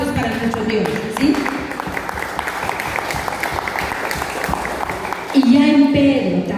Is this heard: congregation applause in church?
yes